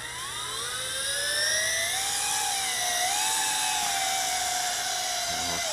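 A JJ R/C H26D quadcopter drone flies nearby, its small rotors giving a continuous high-pitched whine that rises and shifts in pitch as the throttle changes, steady and fairly loud.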